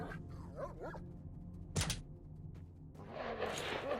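Dog barking in the video game STALKER: Shadow of Chernobyl, a single short loud burst among ambient game noise with rustling and low hum, no talking.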